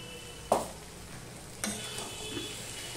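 Ridge gourd is stir-fried with added sugar in a pan over a faint, low sizzle, broken by two sharper scraping stir strokes.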